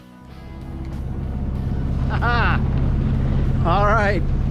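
A boat engine drones steadily and grows louder, with a low throbbing rumble throughout. Two brief warbling tones sound over it and a person talks nearby.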